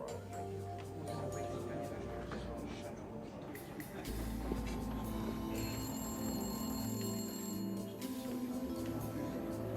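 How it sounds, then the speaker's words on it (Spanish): A telephone rings in a hotel bar in a dramatized FBI serial-killer case, a bright repeated ringing with ongoing low music and ambience underneath throughout. "En el momento justo, sonó el teléfono."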